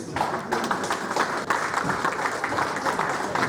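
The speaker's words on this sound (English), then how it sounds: "thank you for those of you that applauded" Audience applause at the AZURE Hastings Day Luncheon, a steady wash of many hands clapping that runs unbroken for a few seconds at moderate loudness.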